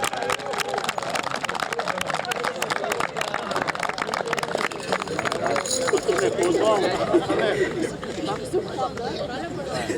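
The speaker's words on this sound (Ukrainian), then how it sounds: "Будь ласка, оплески." At a youth football tournament award ceremony, a crowd claps for the first-place team, dense rapid clapping with chatter and voices mixed in throughout.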